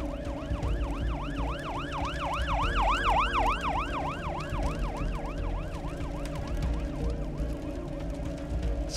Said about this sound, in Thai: เสียงรถดับเพลิงกับรถพยาบาลดังสนั่น